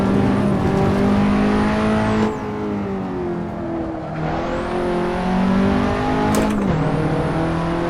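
Audi S1 Quattro engine racing around the Nordschleife in Assetto Corsa, loud and close, revving hard through gear changes with rising and falling engine tones and brief dips as it shifts.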